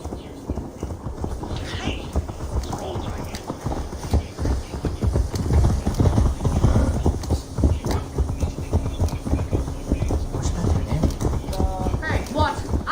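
A horse's hooves clip-clop in a quick, steady trotting rhythm over ambient background in Assassin's Creed Valhalla, continuing throughout.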